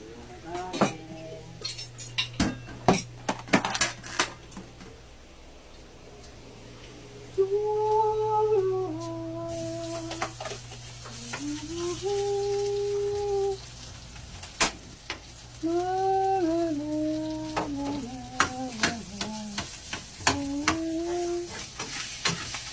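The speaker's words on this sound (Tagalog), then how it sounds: "Sangag natin yung kanin." Leftover rice is stir-fried in a pan, with a metal utensil scraping and clinking in bursts against a soft sizzle, while a voice hums a tune over the cooking.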